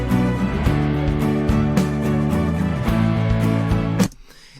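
A loud music track with steady guitar playing in repeating chords, cutting off sharply near the end, with no voices.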